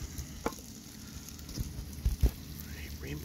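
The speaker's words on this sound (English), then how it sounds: "pan fried in a cast iron skillet" Rainbow trout pan-frying in a cast iron skillet, a steady low sizzle under a few scattered pops and sharper spits, with light handling noise around it.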